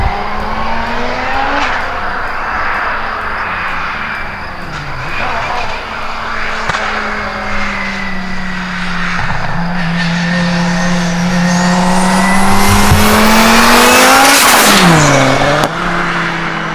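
A modified 1997 Audi S6 C4 turbo making around 800 hp drives hard, its engine note rising and falling through gears and building to a loud, close howl with a sharp whine near the end.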